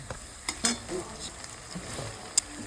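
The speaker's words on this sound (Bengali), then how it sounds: "তেলটা এবার গরম হয়ে গেল, রসুনটা দিয়ে দিচ্ছি" Chopped garlic dropped into hot oil already holding cardamom, dried chilli, coriander, cumin and fennel for a masala chicken, giving a brief sizzle with a few sharp stirring clinks, moderately loud with no talking.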